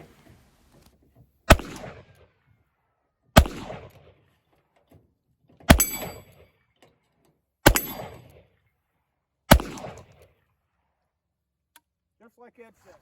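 A Walker revolver fitted with a cartridge conversion fires five loud, sharp shots at roughly two-second intervals, each one ringing out briefly, with quiet pauses between them.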